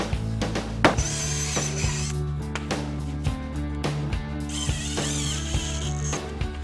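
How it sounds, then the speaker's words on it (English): A power drill drives 2-inch screws through plywood on a garage workbench, after pre-drilling with a countersink bit; the motor whines steadily with clicking, ratcheting pulses and pitch shifts, close and loud with no talk. "we're going to screw it in with some 2-inch screws. We're going to use a countersink bit first."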